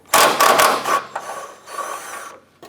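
Ratchet wrench loosening bumper bolts on a 2006-2013 Chevrolet Impala, a close run of rapid clicking bursts followed by a quieter, fainter stretch of ratcheting.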